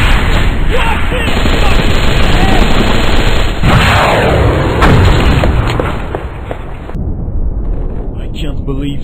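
Sustained machine gun fire and explosions roar through a video game battle, dense and loud for several seconds before cutting off abruptly, with the chaotic rattle continuous throughout.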